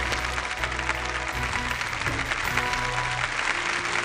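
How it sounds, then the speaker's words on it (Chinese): An audience applauding to welcome a speaker onto the stage at an archaeology lecture, steady mid-level clapping over a background hum and faint music-like tones. "掌声有请张老师。"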